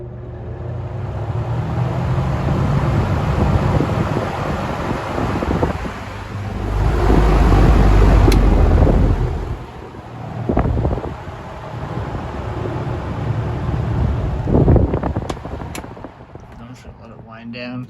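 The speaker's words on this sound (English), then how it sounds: "I'll start it up on towards me first on high, and switch it to low, and then flip it." A 1950s Westinghouse automatic box fan runs with a steady whooshing hum, louder on high and then easing to a softer setting, with a person talking over parts of it.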